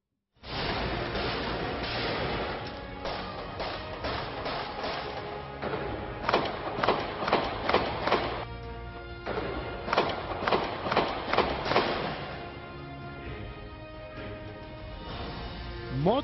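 Gunfire during the Charlie Hebdo terrorist attack rings out in news footage as a series of sharp, heavy thuds in quick bursts over a continuous noisy background, sounding somewhat distant and muffled.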